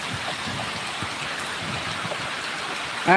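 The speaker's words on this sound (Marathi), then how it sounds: "जोरात पाऊस पडतोय समोरचं काही दिसत नाही आहे" Heavy rain pours steadily beside farm fields, a dense close wash of drops with a sudden louder swell at the very end.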